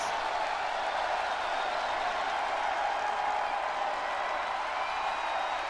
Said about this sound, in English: And the crowd going crazy.